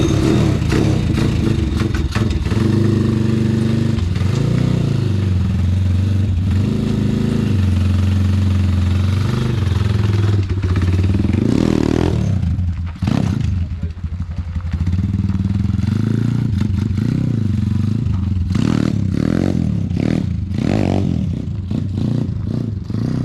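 A restored YCF pit bike runs loud and close, its engine idling with rattly clatter and then revving repeatedly in sharp bursts, with a few scrapes in between.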